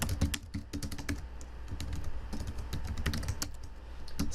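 Rapid typing on a computer keyboard while entering a Cisco banner MOTD command, steady bursts of close, crisp key clicks with brief pauses and no talking.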